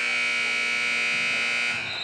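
A loud electronic game-end buzzer sounds in a high school girls basketball gym at the close of a quarter. It is one steady, harsh tone held for nearly two seconds before it cuts off, and no one speaks over it.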